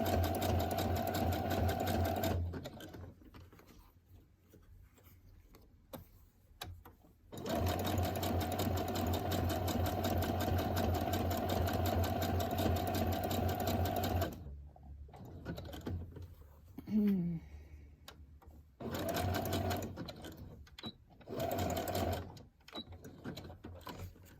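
A sewing machine stitches fabric in long steady runs, a fast mechanical whir broken by short pauses and brief handling sounds, close and clear.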